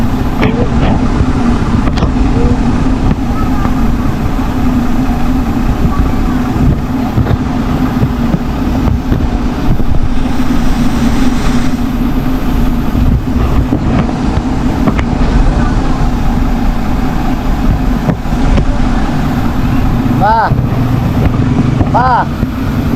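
A steady, loud truck engine rumble runs throughout, with wind buffeting and voices talking over it.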